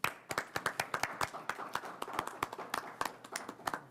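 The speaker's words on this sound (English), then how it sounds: "So can we give them a round of applause?" Sparse applause for board members at a high school board of education meeting, a handful of people clapping with distinct individual claps in a quiet room, fairly faint and irregular.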